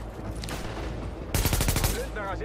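A rapid burst of gunfire in The Division on PS4, in the Lincoln Tunnel, crackles out partway through, several quick shots in succession over a steady background hum and faint game sounds.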